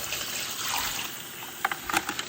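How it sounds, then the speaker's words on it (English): Dirty, sandy water being dumped out of a bucket while rinsing sand for a garage reef aquarium, a short splashing pour followed by a few sharp drips and spatters close by. "So you just want to keep on dumping out the dirty water"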